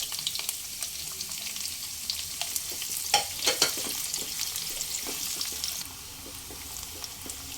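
Steady sizzling of two chopped medium onions frying in hot oil for a chickpea dal, with occasional stirring scrapes and pops, close up and without voices.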